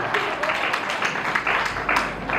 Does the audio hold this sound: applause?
yes